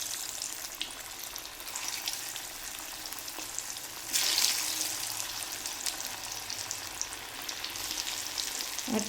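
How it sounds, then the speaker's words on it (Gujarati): Potato-peanut tikki frying in oil over medium heat, a continuous close sizzle with crackling spatter that swells into a louder burst midway, then settles back into steady frying. "આપણે બધી ટિક્કી તળી કાઢશું."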